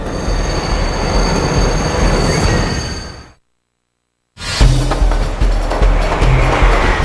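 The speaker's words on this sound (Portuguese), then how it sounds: "uma leva de dezenas de trens se dirige para os túneis do metrô" São Paulo Metro subway trains rumble and rattle loudly through a tunnel, broken by a second of near silence before the roaring clatter resumes.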